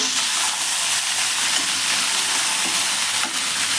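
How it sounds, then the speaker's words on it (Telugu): Brinjals, onions and tomatoes fry in oil for a village-style chutney, making a dense, continuous, close hiss and sizzle with faint crackles and no talking. "అలానే ఆయిల్లోనే వేయించండి"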